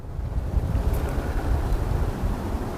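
Wind buffeting a microphone on a fishing boat out on open water, a steady low roar with gusty swells under faint wave wash, no voices.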